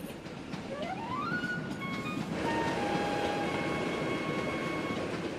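A cartoon train gets moving, its rumbling rail noise steady throughout while rising, whistle-like tones glide up and then hold over the rolling clatter.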